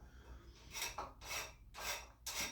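Light hand-file strokes deburring the back of bandsaw blade teeth, four soft rasping passes in a steady rhythm, close and quiet.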